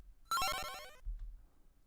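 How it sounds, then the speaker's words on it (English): One Mega Man-style synth blip from Cubase, a fast burst of short notes stepping downward in pitch and fading over under a second, followed by a soft low rumble and no talk. "Some Mega Man, like Mega Man 1, has some sounds that sound a bit like this."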